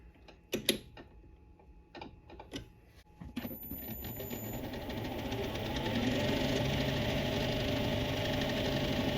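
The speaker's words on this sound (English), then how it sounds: "what I'm going to do is just take 3mm off on the old lathe on a couple of these nuts" An old metal lathe turns down steel nuts, starting with a few clicks and knocks before the motor spins up into a steady, continuous mechanical whir with a high whine that grows louder and stays constant.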